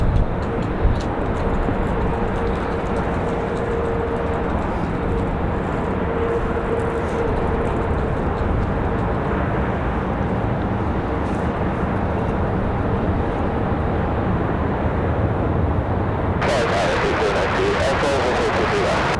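An Avelo Boeing 737-700 at Raleigh-Durham International Airport, bound for New Haven, gives a loud, steady jet roar throughout that brightens sharply near the end.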